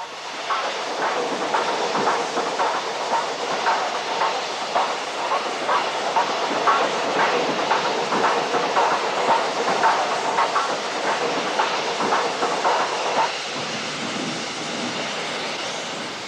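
A British Railways steam locomotive in 1962 running forward into the Swindon works yard, a steady rolling rumble with rhythmic wheel clicks over rail joints, fairly close and continuous, easing off near the end.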